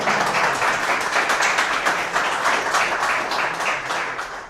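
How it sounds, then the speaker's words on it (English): An audience at a Laravel programming meetup claps in a dense, sustained burst of applause, loud and close, fading slightly toward the end. "I want a round of applause for this one."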